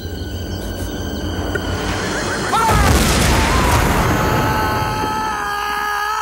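A firing-squad execution scene from the TV series Tales from the Crypt: a loud booming gunshot rings out over a tense musical score, its rumble sustaining for a few seconds.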